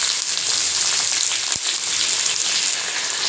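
Onions and tomatoes sauté over a low flame in a pan, a steady close sizzle and crackle that runs throughout, with no talking.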